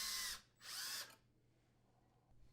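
A power drill boring pilot holes into a dishwasher's custom door panel, two loud close whirring bursts in quick succession, then the motor stops and the room falls quiet.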